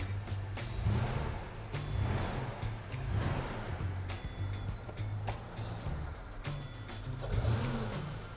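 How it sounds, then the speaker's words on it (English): A used vehicle's engine revs in gear against the brake pedal, a low droning motor that surges and eases in repeated waves, with faint clicks and knocks scattered throughout. "you put it in drive or reverse and essentially flex the motor"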